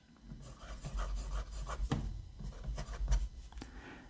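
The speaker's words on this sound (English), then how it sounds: "This pen writes nicely, very smooth, with just a little bit of bounce to that steel nib" A Jinhao x159 fountain pen with a fine steel nib scratches steadily across paper in a close, quiet series of short strokes and soft taps, with a low background hum and no talking.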